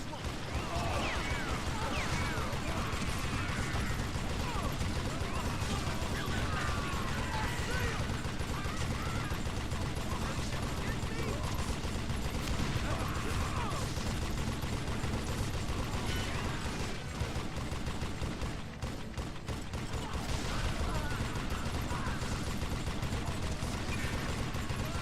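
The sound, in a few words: machine gun firing in video game Call of Juarez: Gunslinger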